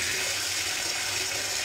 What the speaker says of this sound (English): I'm going to put hot water on top of here